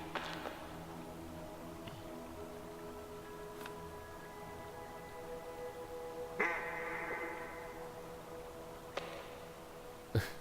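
An angry duck quacks in the adventure game Tsioque, with several short, sharp, nasal quacks spaced apart over a quiet, humming game soundtrack.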